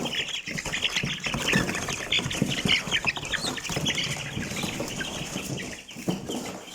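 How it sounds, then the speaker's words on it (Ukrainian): Chickens cluck and squawk nearby while an Ameraucana rooster flaps its wings in bursts as it is caught, amid rustling and scuffling, a busy, agitated commotion close at hand. "зараз я виловлю півня і покажу вам."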